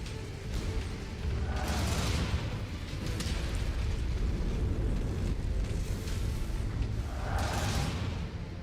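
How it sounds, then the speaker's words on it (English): An ammo explosion in a mech combat video game produces a sustained, loud roaring rumble, with hissing bursts swelling near the start and again toward the end. No one speaks. "Ammo explosion detected."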